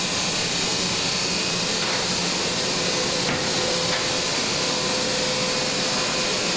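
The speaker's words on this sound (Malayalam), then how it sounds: "Elevator machine room." Steady broadband machinery hum fills an elevator machine room, with a faint constant tonal whine riding over the noise and a couple of brief soft clicks, continuous and fairly loud throughout.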